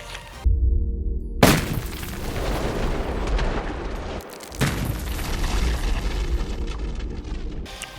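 Military ammunition is fired at body armor from close range in a magazine dump: loud, rapid booming shots run together in a continuous roar, broken by one brief pause midway before the firing resumes.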